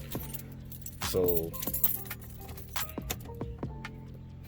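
Car keys jangle beside a Lexus IS300 with a 2JZ-GTE turbo swap, bright metallic clinks and rattles in quick bursts, with a brief voice and some faint handling noise around them.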